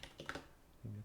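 A quick burst of several light computer-keyboard keystrokes as a root password is typed at a Linux text console, close and quiet.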